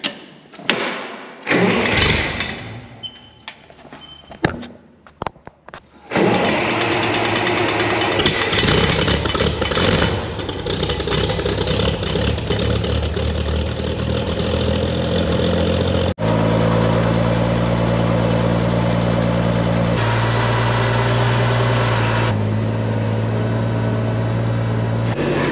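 A farm machinery engine, readied at the start of spring planting in Canada, is cranked with a little choke, sputters through several attempts, then catches and settles into a loud, steady idle that carries on alone.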